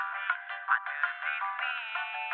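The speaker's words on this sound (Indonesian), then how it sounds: "Frekuensi 1500 itu suaranya kayak apa sih?" A Dangdut Bali music mix with only a narrow band around its upper mids boosted and soloed, giving a thin, nasal, ringing tone that pulses with the beat, steady and fairly loud without any voices.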